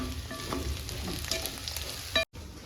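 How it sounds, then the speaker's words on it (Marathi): Onion fries to a deep golden brown in a pan for a traditional Junnar maswadi gravy. A close, even sizzle and crackle runs under occasional stirring scrapes, then cuts out briefly near the end before resuming. "आपण हा कांदा पण इथे चांगला तांबूस करत आहोत"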